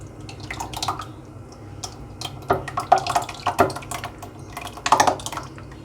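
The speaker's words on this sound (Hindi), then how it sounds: "और ऊपर हम ये अपना कस्टर्ड डाल देंगे।" Custard is poured over a dish of saviyan and jelly, with wet drips and splats landing in an irregular rhythm, growing heavier midway, close and fairly loud.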